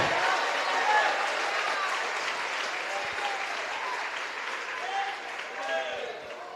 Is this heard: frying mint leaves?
no